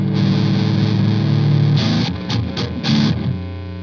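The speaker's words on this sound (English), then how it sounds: "So you hear that? That's the sound of single coil" Fender single-coil electric guitar through an Orange Micro Dark amp, heavily distorted: a thick sustained chord rings out, then a few short choppy stabs and another chord, loud and gritty with no speech.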